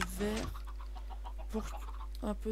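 A few short, bright clucking calls from Minecraft chickens, spaced out over a low steady hum, sounding synthetic and game-like.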